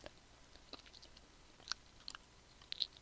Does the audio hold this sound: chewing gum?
yes